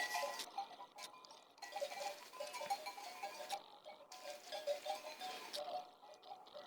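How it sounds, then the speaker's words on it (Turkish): A flock of sheep bleating repeatedly at a middle distance, with intermittent clinking and rustling over a steady outdoor background. "Evet bu da Mustafa Ağa'nın koyunları"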